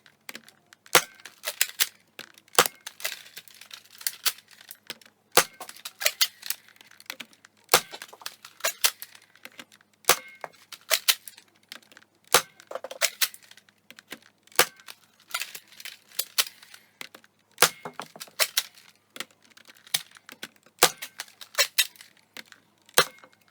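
A FaZe Clan Respawn foam blaster fires Adventure Force orange foam rounds, giving a steady series of sharp, close clicks and pops spaced a second or two apart, with faint mechanical rattling in between and no talking.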